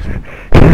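Gunfire in GTA Online, a short sharp loud blast that hits abruptly after a brief quieter lead-in, close and punchy.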